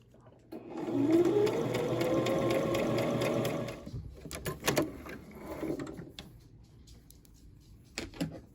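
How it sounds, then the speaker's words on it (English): A home sewing machine runs a zigzag stitch on a jogger garment's neckband seam, a steady close mechanical whir for about three seconds, then stops and is followed by scattered handling clicks and rustles. "And I'll do this in a zigzag stitch"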